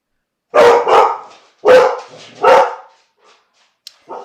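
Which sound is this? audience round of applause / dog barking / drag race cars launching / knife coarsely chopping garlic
dog barking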